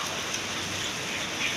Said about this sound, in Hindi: ओ माय गॉड एते वर्षा